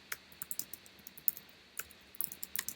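Quick bursts of typing on a computer keyboard, the keys clicking close and crisp in uneven clusters with short pauses between runs.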